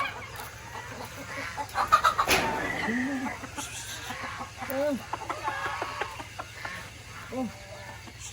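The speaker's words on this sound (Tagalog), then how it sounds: "Tinutulungan ako andun sa papakain ng gansa." Geese being fed on a farm, honking and clucking calls coming in short bursts at close range over steady background noise, with people talking nearby.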